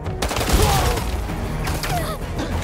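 Enemy gunfire in the Spider-Man 2 video game, a busy, loud wash of shots and impacts blending into a dense battle din with faint whistling tones, continuous throughout with no clear gaps.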